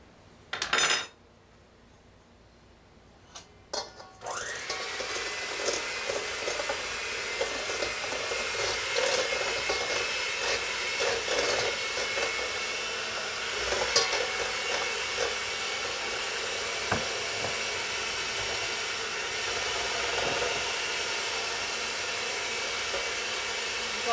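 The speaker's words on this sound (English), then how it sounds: "I have some scalded milk here that I'm going to pour in with it." Scalded milk poured into a Polish potato bread mixture makes a steady, close liquid pour with a soft splashing hiss that runs for about twenty seconds after a brief clink at the start.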